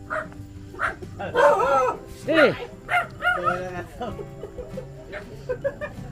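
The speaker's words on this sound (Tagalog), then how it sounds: "Dami ng aso." Several dogs bark and yip in short bursts at mid distance in rural Batangas, Philippines, mixed with a whimper, while a person's voice calls out briefly.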